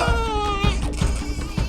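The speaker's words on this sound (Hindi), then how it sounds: "किसी बच्चे की रोने की आवाज आ रही है" A baby crying in a domestic drama scene: repeated wavering wails with short gasps between them, loud and close.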